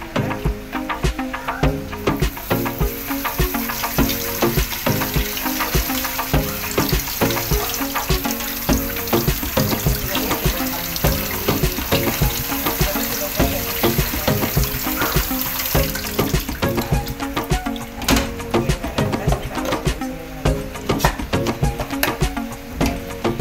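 A fruit and vegetable slicer is rinsed under a running kitchen tap, with a steady loud splash and hiss of water continuing throughout and clattering from the parts being handled.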